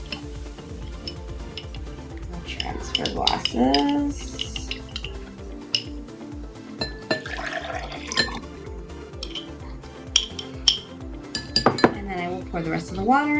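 Glassware clinks and knocks repeatedly in irregular bursts during an iodine clock reaction experiment, with bright ringing chimes, soft liquid sounds and a voice speaking briefly.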